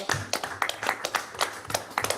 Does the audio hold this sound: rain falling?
no